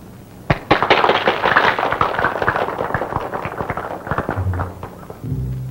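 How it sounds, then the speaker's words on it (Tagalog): A thrown grenade goes off in a 1954 Filipino film scene, a sharp blast that breaks into several seconds of dense crackling bursts before fading into a low rumble. "Prinsesa Juana, ikaw ang unang maghagis ng granada."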